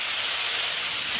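A steady, close hiss of a spray bottle spraying water onto a Range Rover Sport window during tint installation runs through the whole short moment, with no voices.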